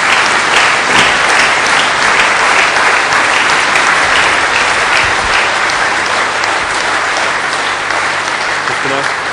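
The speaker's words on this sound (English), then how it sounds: "Give Nana a round of applause, Erik's daughter." A large audience gives a steady, dense round of applause that fills the whole stretch, loud and close, with a few voices mixed in.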